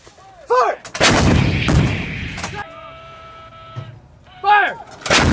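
Artillery guns fire during a Philippine Marines live-fire exercise: heavy blasts boom and roll out loudly, separated by shouted commands from the gun crew, with one final blast at the end.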